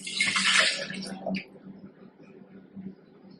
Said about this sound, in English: So for my smoothie, I'm going to pour in my cup of water.